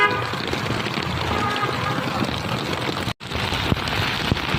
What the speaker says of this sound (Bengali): কি প্রচণ্ড জোরে সোরে বৃষ্টি, একদম অনেক জোরে করে